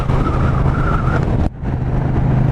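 A Honda Rebel 1100 cruiser motorcycle engine pulls hard under acceleration, a loud close-up roar that drops suddenly at a gear change and then builds again.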